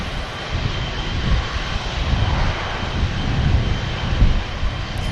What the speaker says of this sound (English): Next out, stunning 777 of Cathay Pacific